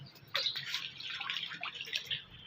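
Dirty water drains and splashes from freshly washed tripe, a steady close trickle and patter of liquid with light drips, heard alone without talk.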